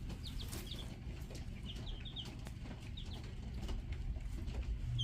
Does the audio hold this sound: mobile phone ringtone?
no